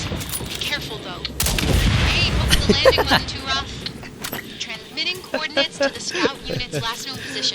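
A burst of loud booming blasts and gunfire from the game Second Extinction as a thrown grenade is shot and explodes, followed by someone talking over scattered effects.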